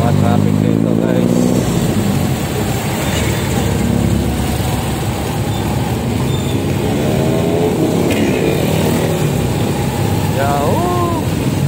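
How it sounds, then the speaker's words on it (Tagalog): Road traffic of motorcycles and cars: a steady, loud wash of engine noise close by, with a passing engine rising and falling in pitch midway and a brief horn-like tone near the end. "Mga traffic dito guys."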